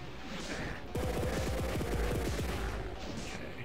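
Automatic pistol firing in a Doom WAD video game, a rapid burst of about ten evenly spaced loud shots lasting under two seconds, with game ambience before and after.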